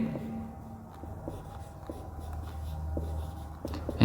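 Marker or chalk writing on a board while sketching a flowchart, heard as soft, close scratchy strokes in short irregular bursts against a quiet room.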